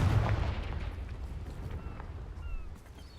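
A Confringo fire spell explodes in the video game Hogwarts Legacy: a loud, booming blast at the start that rolls into a rumbling decay and fades over a few seconds, with no talking.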